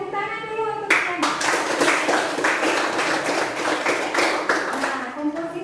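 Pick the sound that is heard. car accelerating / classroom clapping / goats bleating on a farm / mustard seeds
classroom clapping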